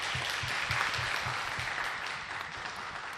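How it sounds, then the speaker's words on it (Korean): A church congregation claps steadily together during a Sunday service, a dense patter of applause with no voices, holding at an even level throughout. "우리 박수로 좀 환영하도록 하겠습니다"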